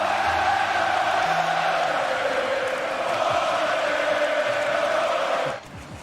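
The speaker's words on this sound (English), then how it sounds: "Crowd still rocking here." Crowd at an esports playoff match roaring in a steady, sustained wash of cheering that holds loud and even before dropping off near the end, with a commentator's voice faintly underneath.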